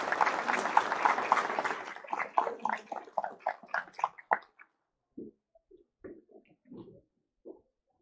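Applause from an audience at a university graduation ceremony where degrees are conferred, loud and dense at first, then thinning into scattered claps and fading out.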